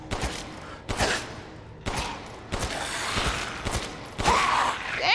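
Gunshots in Resident Evil Village: four or five loud, heavy single shots spaced about a second apart, each with a booming echo, close up, with a brief metallic mechanical sound near the end.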